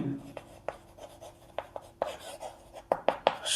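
Pen or pencil scratching on paper during a class 5 maths lesson, a run of short scratchy strokes and taps with uneven rhythm and a few louder clustered marks near the end, up close with no talking.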